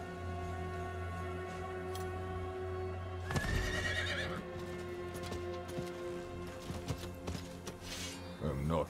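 A horse whinnies and neighs in the Diablo IV video game, with hoofbeats clip-clopping over steady game music and ambience, while a voice speaks in between.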